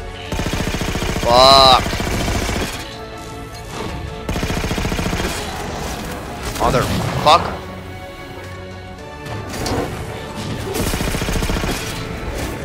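Enemy gunfire in Halo 4 gameplay rattles in repeated bursts while someone shouts and curses over it, with some sharp impacts and electronic warbling sounds mixed in.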